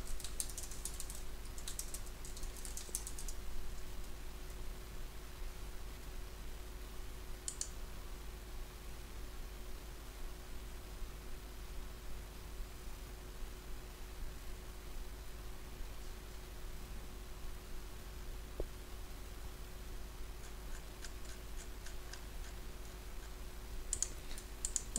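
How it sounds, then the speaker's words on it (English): Typing a search query into Google on a computer keyboard, soft steady keystroke clicks running throughout against a constant electrical hum, quiet and close, with no voices. "Let me just type that into Google to see what we find."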